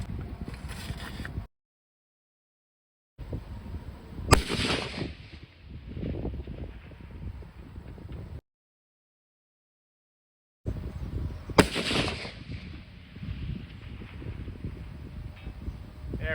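Rifle shots fired outdoors at a 900-yard target, each a sharp loud crack followed by a rumbling decay, two shots separated by silence with wind noise in between.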